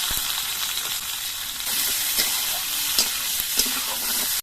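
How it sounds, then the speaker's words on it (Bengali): Steady crackling sizzle of onions frying in a pan after garlic, with a few brief clinks and stirring sounds, no voices. "এবার আমি এর মধ্যে পেঁয়াজগুলো দিয়ে দিচ্ছি"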